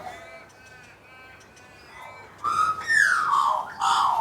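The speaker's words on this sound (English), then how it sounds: "there's 5 magpies in our backyard" Several magpies warble and whistle in a backyard, faint and sparse at first, then a loud, close burst of rich, fluting song.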